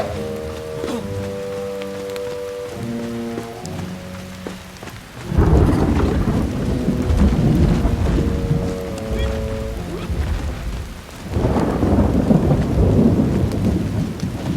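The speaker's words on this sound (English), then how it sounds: "I love the raining sound." Rain pours with rumbling thunder in the video game Little Orpheus, heavy and loud in two swelling bursts after a quieter opening of tonal game music.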